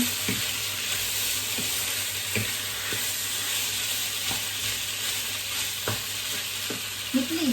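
Marinated pork stir-frying in a pan, a steady broad sizzle running throughout with a spatula scraping and clicking at irregular intervals, fairly close and without talk.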